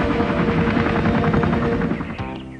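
Cartoon attack helicopters in an animated invasion scene thump with a rapid rhythmic rotor chop, loud and close, cutting off abruptly near the end.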